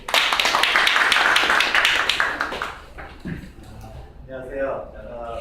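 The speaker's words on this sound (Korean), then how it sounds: "여러분 박수 보내주십시오." An audience at a startup pitching and networking event claps, loud and busy for about three seconds before thinning out and fading, with a voice starting near the end.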